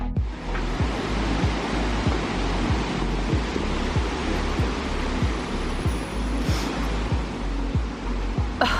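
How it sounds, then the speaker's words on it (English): A steady, broad roar of a large Michigan waterfall fills the clip without pause, with a deep rumble underneath and no voices. "This is always my favorite type of view of the waterfall"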